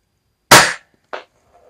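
A P38 pistol fires 4 mm M20 rounds, a sharp loud crack followed by a smaller, fainter second bang, each separated by silence.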